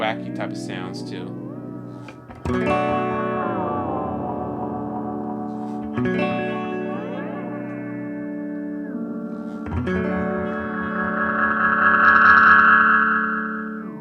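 MXR Carbon Copy guitar delay pedal producing wacky, warbling repeats as delay time is swept, with pitch-bending echoes of sustained guitar notes building into a bright, swelling, near self-oscillating wash; no voices.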